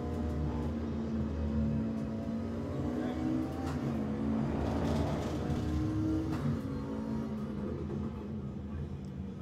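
A Ford Mustang in a racing video game hums and revs steadily at moderate volume, with the engine note rising and falling under a voice talking.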